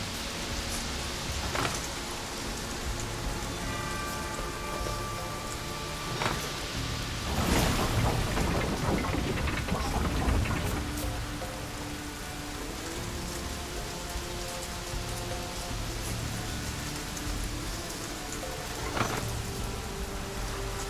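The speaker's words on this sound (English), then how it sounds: "Looks like rain." Rain pours steadily across a stormy landscape in The Witcher 3, a constant hiss with a loud rumble of thunder rolling through the middle and another lighter crack near the end.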